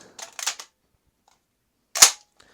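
Two or three sharp, snappy shots from an M4-clone airsoft rifle crack in quick succession, then a pause and one more close, crisp shot.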